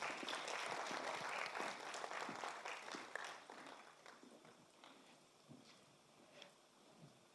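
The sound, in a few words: applause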